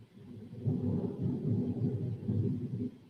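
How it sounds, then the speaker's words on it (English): Deep rolling thunder from a massive approaching storm, a sustained low rumble that swells and holds for a few seconds before easing off, heard alone without talk. "we got a massive storm coming"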